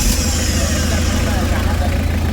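A Mitsubishi 4D56 diesel engine with a hard-starting fault, its starter motor cranking in a loud, dense, steady grinding churn with a rapid pulsing low rumble, close up throughout.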